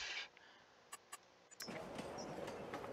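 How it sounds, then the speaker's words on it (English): Diesel locomotive train in Farming Simulator 22 on the Elms Creek map, a steady rumbling rail roll that swells in partway through after a few short clicks, continuing loud to the end. "Oh, oh, oh, oh diesel locomotive."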